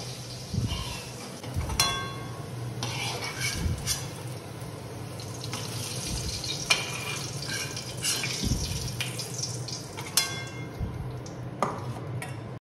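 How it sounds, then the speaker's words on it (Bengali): Fried potatoes lifted out of a pan of hot oil for a fish curry, with scattered scraping and clinking of a utensil over a steady bubbling sizzle, close and moderately loud. "এরপর আমি আলুগুলো তুলে নেব।"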